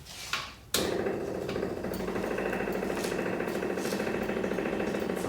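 The turn signal flasher of an MGB car clicks in a regular, evenly spaced rhythm over a continuous steady hum, heard close after an initial sharp clunk.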